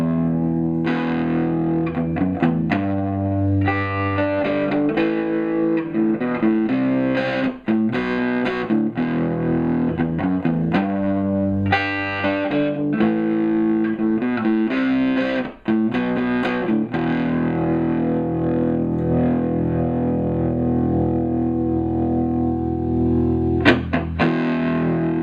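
Electric guitar played through a Marshall Master MK2 lead amp with a distorted tone, sustained chords and riffs ringing loud and continuous with brief gaps between phrases, no talking.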